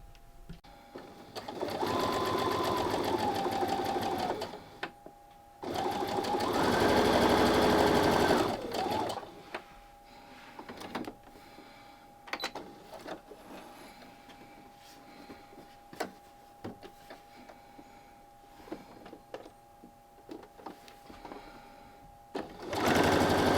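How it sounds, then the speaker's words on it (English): A sewing machine stitches a quarter-inch seam on quilt fabric for half-square triangles: two loud whirring runs of several seconds each, then quieter scattered clicks and handling noises. "I sewed a 1/4 inch to the right"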